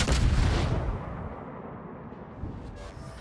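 A heavy naval gun salvo from the battleship Puerto Rico in a warship video game, one loud booming blast at the start that rolls away into a fading rumble, with a faint second thud near the end.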